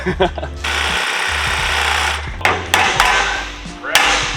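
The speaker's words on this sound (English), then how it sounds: "Hit it with the strength of 3 gators right there, Jim." Metal-on-metal hammer blows strike seized rear suspension parts on a Nissan 350Z Z33, with a dense, harsh clatter followed by a few sharp, separate ringing impacts close by.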